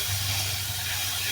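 Fish frying in hot oil, a steady close sizzling hiss with a low rumbling undertone, continuous and fairly loud throughout.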